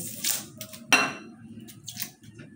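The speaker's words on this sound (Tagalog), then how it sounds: "yung bawang, pupukpukin ko yan para ano" Garlic for beef afritada is pounded in a home kitchen with a few sharp knocks, the loudest strike near the middle, over a low, steady background hum with light clinks.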